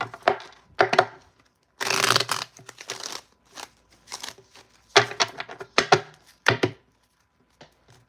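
Tarot cards shuffled in several quick bursts of crisp riffling and slapping, close up, with short pauses between bursts and no talking.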